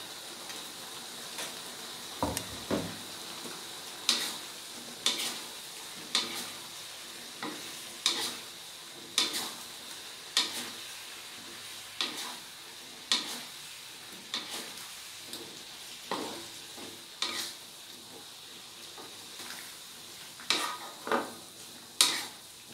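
Cauliflower, carrots and green beans stir-fry in a pan under a steady hiss, with a spatula scraping and tapping against the pan in a regular rhythm roughly every second, close and fairly loud, with no talking.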